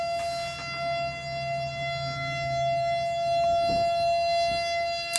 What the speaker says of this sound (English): there's one siren sound.